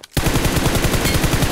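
Rapid automatic gunfire in the PUBG Mobile battle royale game, a dense, loud, evenly rhythmic burst filling the whole moment after a brief quiet start.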